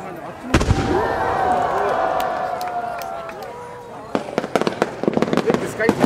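A loud launch thump followed by whistling, rising star mine fireworks at the Shinshu Ueda fireworks festival, then a rapid crackling series of sharp pops and bursts, with crowd noise and a voice in the background.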